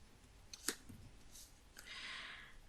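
Scissors cut designer series paper for simple stamped cards, giving a single faint, crisp snip close by in a quiet room with a soft papery rustle afterward.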